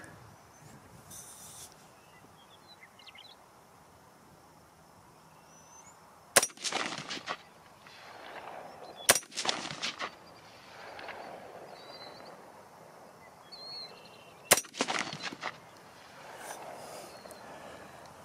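Three sharp, separate cracks from a 24-inch .223/5.56 rifle loaded with 60-grain V-MAX rounds during rock chuck hunting. Each crack has a short ringing tail, with long pauses between shots and a quiet outdoor hush around them.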